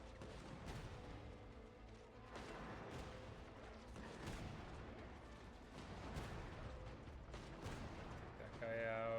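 Repeated booming explosions and artillery-like blasts in Genshin Impact, some muffled, with a faint voice now and then amid the rumble.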